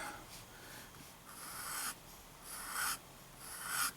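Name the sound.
fountain pen with steel nib writing quickly on paper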